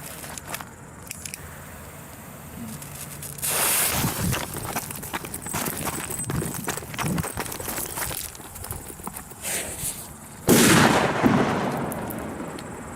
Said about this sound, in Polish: pocisk z wyrzutni, nie mam pojęcia jakiej, nie mam pojęcia jak duży to będzie wybuch